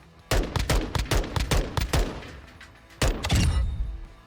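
Single-fire gunshots in the firing range of the Modern Warfare II video game, a rapid run of about eight sharp close shots, a short pause, then a few more reports.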